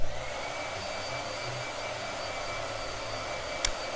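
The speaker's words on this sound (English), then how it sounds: "Oh my god, more blow dryer." A blow dryer drying watercolor paint on paper runs as a steady, close whooshing hum, constant throughout, with one brief clack near the end and no speech.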